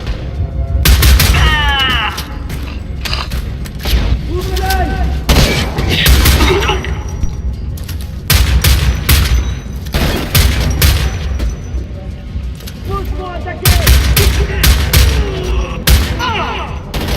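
Rapid gunfire from the Homefront: The Revolution video game, dense fusillades and booming shots in repeated bursts, loud and close, with faint game voices now and then.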